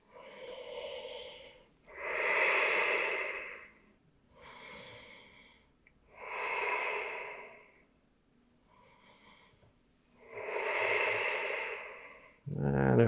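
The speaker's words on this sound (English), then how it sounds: "See if you can breathe right up into your heart center." Slow, deep breaths during a yoga stretch, several long audible inhales and exhales in a calm rhythm, close to the microphone in a quiet room.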